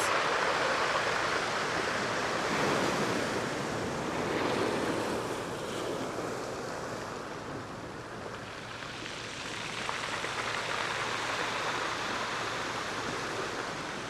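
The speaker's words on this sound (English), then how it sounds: "I don't know if you can actually hear the water over the stones." Sea water washes steadily over the stones at the Funchal waterfront in Madeira, a continuous rushing surf with gentle swells, mixed with some wind buffeting close to the microphone.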